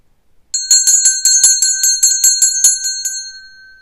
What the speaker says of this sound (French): Je vais sonner la cloche.